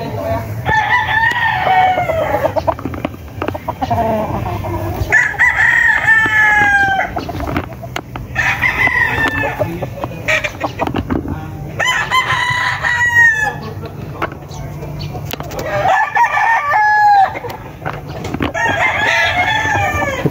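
Several gamecocks and bullstags crowing close by on a farm, repeated crows one after another every few seconds over a steady background of clucking and murmur.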